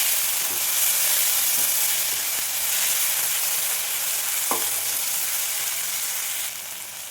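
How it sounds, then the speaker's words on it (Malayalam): Tomatoes sautéing in a pan for chickpea kurma, giving a steady, close sizzle that holds throughout with a few faint stirring scrapes and one brief knock partway through. "ഇനി അടുത്തായിട്ട് തക്കാളി ഇട്ട് കൊടുക്കും. തക്കാളി ഒന്ന് വഴന്ന് വരണം."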